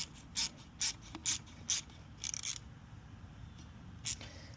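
An 8mm ratchet tightening valve cover bolts on a 2004 Infiniti G35 with a VQ35DE engine, giving short bursts of quick clicking pawl ratcheting, about six separate runs, close and crisp over a quiet background.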